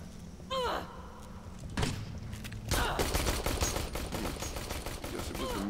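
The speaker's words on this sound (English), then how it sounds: "You know what, I'll switch to Hudson's rifle as well" Hudson's pulse rifle firing in the sci-fi shooter Aliens: Colonial Marines, with a dense, sustained burst of rapid automatic gunfire taking over after a couple of brief shots and scattered game effects, loud and close.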